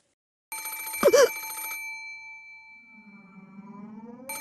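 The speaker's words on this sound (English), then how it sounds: "There was a phone on the bedside table across the one with a doll, and it was ringing noisily." A telephone rings from the bedside table in the visual novel Umineko, a sharp bright ring burst with a sustained metallic tone that decays, then begins again at the end, loud and alone.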